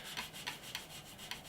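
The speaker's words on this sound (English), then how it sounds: "remember with the sanding technique, as in do not push down, just let the sander rock across the surface." A Revell Me 262 plastic model kit is lightly sanded by hand, with soft rhythmic rubbing strokes about every quarter second, close and quiet, no talk.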